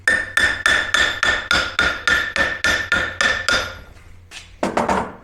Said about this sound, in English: we're going to tap it with a hammer